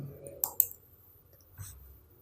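Computer mouse clicks while working in 3ds Max with the Arnold renderer, a few sharp close clicks spaced unevenly in a quiet room.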